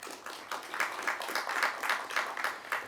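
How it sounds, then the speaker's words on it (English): A modest audience applauds a guest speaker at a UN event on artificial intelligence governance, with light, fairly sparse clapping and individual claps distinct in an uneven rhythm, moderately distant. "Let's give her a round of applause."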